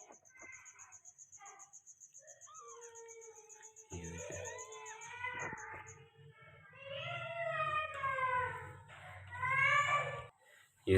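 A grey female Persian kitten with a punch face gives a series of thin, high meows that grow louder and more insistent, with a faint chirping in the background.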